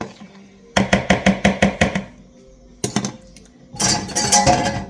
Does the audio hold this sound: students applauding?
no